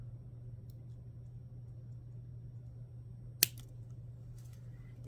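Cutting tool trims off excess wire while making earrings: a single sharp, close snip cuts through a quiet room with a steady low hum underneath.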